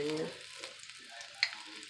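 Battered tempura shrimp dropped a couple at a time into hot oil, giving a brief soft sizzle with a small clink, close by and fairly quiet.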